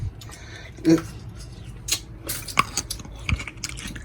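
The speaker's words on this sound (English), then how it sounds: "I'm gonna bite half." Close-up bite into a crunchy seedless grape followed by several wet crunching chews, sharp irregular snaps in a quiet room.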